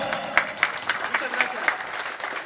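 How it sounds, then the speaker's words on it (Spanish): Applause from guests at a festive gathering celebrating Antonio Cobos's 18th birthday in González, Tamaulipas, with rhythmic rounds of clapping and some voices mixed in over a short stretch. "Un fuerte aplauso."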